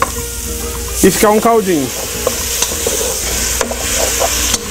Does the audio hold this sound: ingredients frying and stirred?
yes